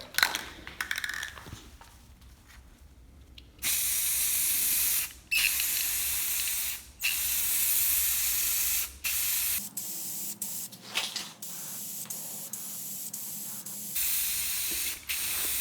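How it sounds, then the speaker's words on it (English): Close, loud bursts of aerosol spray paint hissing onto a plastic bumper of a Ford F350 in long steady passes with short pauses between them, no talking. "we're ready to start spraying paint"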